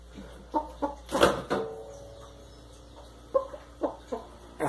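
Young hens clucking at close range during a Newcastle vaccination, several short bursts of clucks and squawks spread unevenly through a quiet pen.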